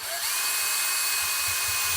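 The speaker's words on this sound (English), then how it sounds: "we can drill them out" A small power drill bores out countersunk screws, whining in one steady, loud, high-pitched run close at hand with no talking.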